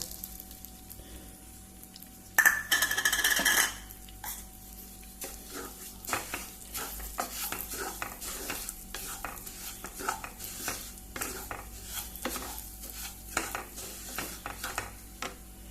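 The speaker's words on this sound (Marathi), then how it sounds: "आतां ते तापले, आतां तितून हो रवो भाजूया।" Semolina roasting in a few spoons of hot ghee for Goan laapsi, a soft sizzle under rhythmic spoon scrapes against the pan, with a brief louder clatter near the start.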